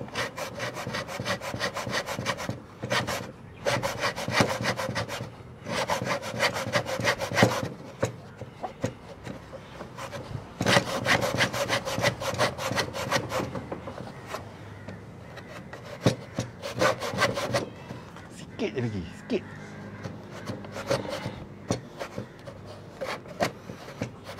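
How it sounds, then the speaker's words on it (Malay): A hand saw cuts through wood in long rhythmic rasping strokes, bursts separated by short pauses, close and steady, slowing near the end. "kalau boleh gergaji kayu jangan moving"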